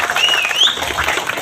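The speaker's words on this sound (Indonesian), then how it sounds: "Tepuk tangan untuk atlet kita." A crowd gives dense, continuous applause at a homecoming welcome for a SEA Games 2022 champion volleyball libero from the national team.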